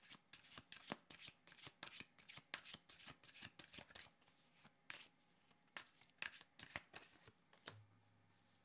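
Quick riffling bursts of a deck being shuffled for a card reading, crisp papery flutters in a steady run of close snaps, without talk.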